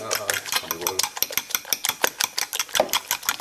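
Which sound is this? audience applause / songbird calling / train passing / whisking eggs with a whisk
whisking eggs with a whisk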